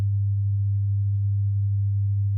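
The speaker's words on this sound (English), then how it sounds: "Here's our signal generator at minus 20 dB. If I play like 100 hertz" A pure 100 Hz sine tone from a signal generator set to -20 dB, a steady, unwavering low hum held at constant level, clean and alone.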